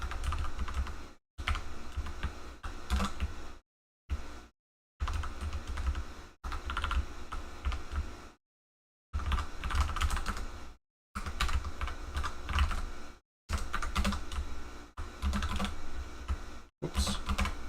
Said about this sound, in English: I'm just like typing it, but I don't think I should be typing it.